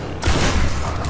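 Video game gunfire from Tomb Raider (2013): a loud, dense burst of shots lasting about a second, close and heavy with low booming weight.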